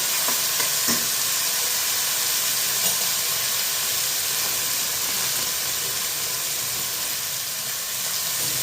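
Sabudana khichdi sautés in a pan with a steady, close hiss and sizzle of frying, broken by occasional faint scrapes of a stirring spoon. The sound is continuous and even throughout, with no talking.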